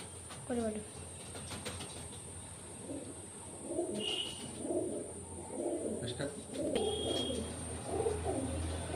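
Teddy pigeons coo in repeated soft, throaty rolls, close by, with a person talking over them and a steady background hiss.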